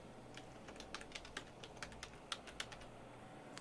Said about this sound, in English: Typing away.